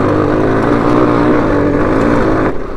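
Close, loud engine drone of an X-Torque 250 dirt bike on an off-road ride, a steady throaty hum that holds for a couple of seconds before easing off at the end.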